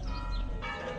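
Church bells chime in the background along a rural road near Hondon, Spain, a faint, steady ringing blended into broad outdoor noise.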